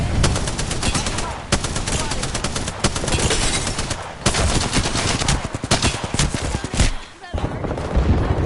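Rapid gunfire from an Apex Legends match, repeated automatic bursts and single cracks broken by short pauses, loud and near, with some voice chatter mixed in.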